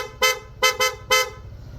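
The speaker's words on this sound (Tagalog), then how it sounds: "PIA horn." Four loud, bright toots from an aftermarket PIA horn on a Honda ADV160 scooter, the middle two in quick succession, over a low engine idle.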